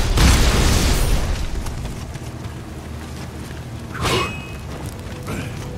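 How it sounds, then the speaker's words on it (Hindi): Bombs explode in the samurai action game Nioh, a loud rumbling blast opening the moment followed by fainter bursts and game effects, with no voice over it. "बॉम्ब भी फेंक के मारो सारे।"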